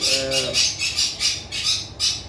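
A pair of pineapple conures, a pied-mix female and a normal male, give a series of harsh, rhythmic squawks, about seven loud bursts close by. Faint vocal sounds appear near the start.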